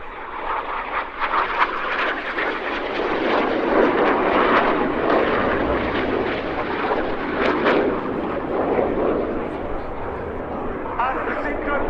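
Red Arrows display jets roar overhead at the RIAT 2024 air show, a loud, sustained rushing jet noise with surging passes, heard under a commentator's voice over the public address.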